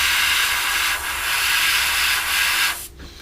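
An airbrush sprays paint onto a Revell 1/72 scale Lancaster model aircraft, giving a steady close airy hiss that runs unbroken for about three seconds, then cuts off abruptly near the end.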